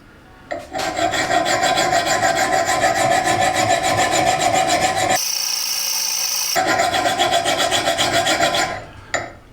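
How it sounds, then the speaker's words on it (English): A metal file scrapes rhythmically back and forth across a folded rag held in the palm, loud and close. The rasping strokes run steadily and pause briefly midway before resuming, with no voices. "the file is rubbing here on the palm"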